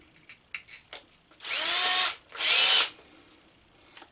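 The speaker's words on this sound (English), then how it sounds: "Just insert it into the drill" A power drill spun up with a valve-grinding attachment fitted, in two loud, close bursts of about half a second each, preceded by a few light clicks of handling.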